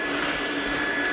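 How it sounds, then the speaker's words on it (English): A vacuum cleaner runs steadily at close range, a continuous loud motor whine and airflow roar with no breaks and no voices. "Don't use a big clunky vacuum with lots of cords."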